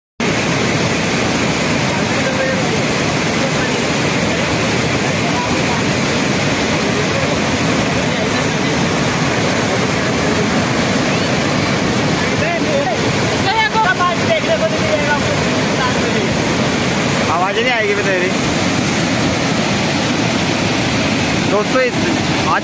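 Floodwater rushes loudly and steadily under a small culvert bridge, a broad continuous roar of churning water, with a voice briefly speaking over it toward the end.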